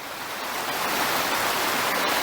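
Waterfall on a mountain river at Talybont, a steady broadband rush of falling water, loud and continuous throughout with no voices.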